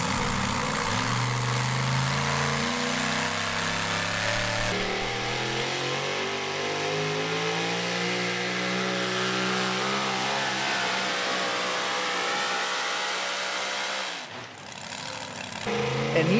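A super modified racing truck with a Ford body revs its engine loudly and close by at a county fair run-what-you-brung event, the pitch climbing and holding in a steady drone before a brief drop near the end.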